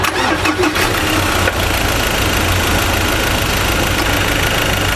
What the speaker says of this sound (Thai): เดี๋ยวเราไปฟังเสียงเครื่องยนต์กัน